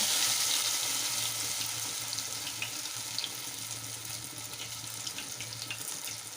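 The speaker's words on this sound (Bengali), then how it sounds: "এই তেলের মধ্যে আমি ছেড়ে দিচ্ছি এক একটা" Peda-shaped dough pieces coated in batter fry in hot oil, a steady bubbling hiss that eases slightly over time, with faint crackles near the pan.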